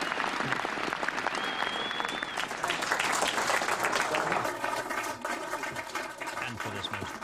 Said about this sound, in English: after the cheers of the crowd